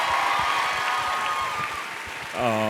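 Live crowd applause and cheering for podcast hosts at an event, a broad continuous roar of clapping that eases slightly before a voice comes in near the end.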